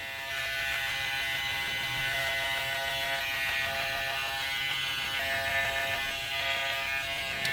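An electric clipper buzzes steadily while trimming a beard, a continuous close whirring hum with slight variations as it moves through the hair, no talking.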